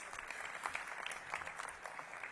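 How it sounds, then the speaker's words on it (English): Faint, distant clapping from a morning crowd at a ribbon-cutting for a new DC Health headquarters in Ward 8, short and soft with scattered individual claps. "Give yourselves a round of applause for being here"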